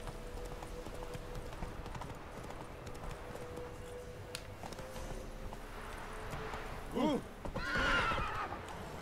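In The Witcher 3: Wild Hunt, a horse gallops with a steady clip-clop of hooves, then lets out a loud whinny near the end, over faint background game sounds and voices.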